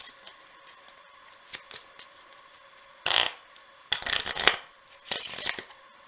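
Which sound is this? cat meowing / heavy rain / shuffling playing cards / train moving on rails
shuffling playing cards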